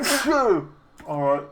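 A single sharp sneeze bursts out up close from a person playing a factory-building game, followed by a short spoken word.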